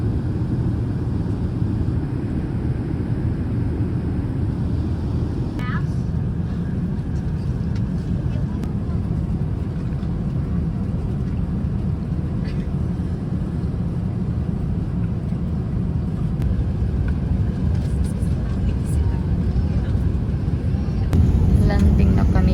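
An Emirates airliner cabin on the approach into Singapore fills with a steady, loud low engine and air roar that holds evenly throughout, with occasional faint cabin clicks.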